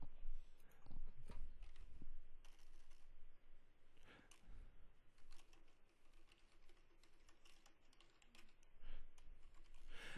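Fingers type on a computer keyboard in quick, uneven bursts of key clicks, faint and close, with no speech over them.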